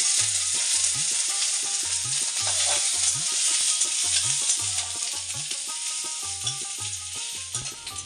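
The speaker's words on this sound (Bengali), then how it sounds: "আর দেব হচ্ছে পেঁয়াজ কুচি।" Chopped onion drops into a dal tempering of hot oil with bay leaf and dried red chili and fries with a bright continuous sizzle. A low rhythmic mechanical thumping repeats underneath at regular intervals.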